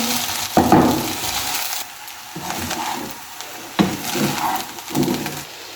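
Chicken fried rice being stirred and tossed with tomato ketchup in a hot pan, with a few bursts of scraping and sizzling clatter separated by quieter pauses, close and fairly loud.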